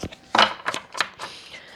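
Fairy tarot cards are shuffled quickly by hand, giving a few short papery riffling bursts and soft slaps, close and fairly quiet, with no talking.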